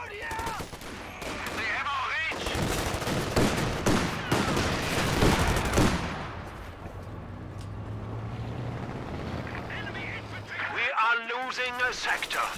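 Machine gun fire in a Company of Heroes-style strategy game match, dense rattling bursts in the middle with other battle noise and engine hum, under continuous commentary from a man.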